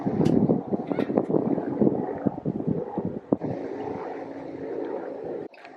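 Northwesterly wind rushing past a sailboat underway, a continuous breathy roar with gusty buffeting, loud and close, with some brief talk over it.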